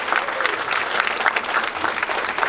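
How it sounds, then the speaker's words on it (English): Crowd applause at a volunteer appreciation luncheon in Palmdale, thanking the cafe team that provided the food: a short, lively burst of many hands clapping at close range, with a faint murmur of voices underneath. "let's give them a little motivational round of applause"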